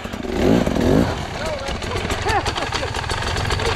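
A motorcycle engine sputters and revs unevenly as the bike is pushed out, with excited shouting voices over the throbbing motor.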